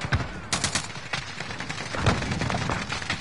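Gunfire crackles through a PS4 shooter, a quick cluster of sharp shots and bursts over about three seconds, fairly loud and unaccompanied by talk.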